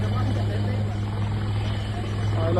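A rescue helicopter hovers low over floodwater near Pune, its loud steady rotor drone and thumping rumble filling the air as the downwash sprays water. People talk over the din.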